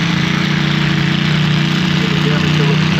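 A tractor engine runs steadily close by, a low continuous drone with a vibrating rumble and no break in level, while a person appears to talk over it.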